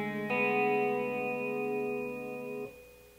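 Electric guitar with chorus and echo effects plays the second phrase of a song, a few picked notes ringing into a sustained open-string chord that fades and cuts off, clean and solo.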